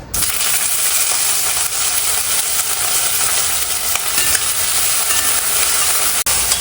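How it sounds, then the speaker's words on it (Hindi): Boiled corn kernels fry in hot olive oil, giving a loud, continuous close-up sizzle and crackle that holds steady throughout with no talking. "पर पहले हम थोड़ा फ्राई कर लेंगे अपने कॉर्न को"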